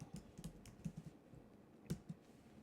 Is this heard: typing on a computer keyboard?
yes